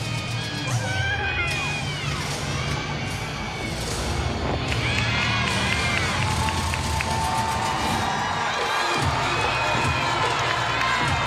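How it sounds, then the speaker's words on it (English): Crowd cheers and shouts at a college gymnastics meet between Mizzou and UGA, rising as a beam score is posted; a loud, sustained roar from a packed arena with whoops and excited voices throughout. "That's why you hear the crowd"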